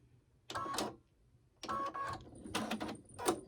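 A sewing machine with a thread problem runs in four short bursts separated by brief pauses, its stitching loud and clattery with a sharp click near the end.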